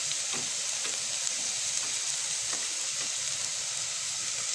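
Garlic sizzles and crackles steadily in hot oil in a pot during beef-macaroni soup cooking, a dense continuous frying hiss with occasional soft stirring scrapes, fairly close.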